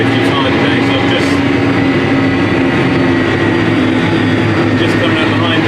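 A roughly 55k farm tractor drives along a road on a fine day, its engine a loud, steady low droning hum that runs throughout, with someone talking over it.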